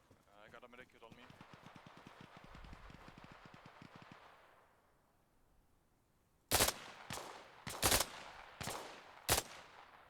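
Gunfire in a video game: after a stretch of voices and a quieter lull, five sharp, loud shots ring out in quick succession.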